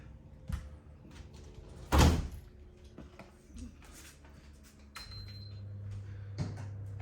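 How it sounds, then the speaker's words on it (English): An interior door swung shut in a yoga studio gives one loud, close thud with a brief rattle, followed by low room hum; a few softer knocks and shuffles sit around it, with no talking. "I'm just going to close the door here."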